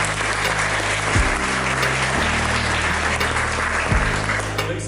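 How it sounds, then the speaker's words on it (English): Sustained applause from an audience at a research and innovation talk welcoming a guest, a dense steady clatter of clapping hands that holds at an even level throughout. "Round of applause for Matt."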